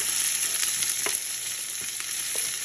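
Chopped vegetables for a cod dish with potatoes in a wine and tomato sauce fry in hot oil in a pan, a constant bright sizzle with scattered crackles and spatters.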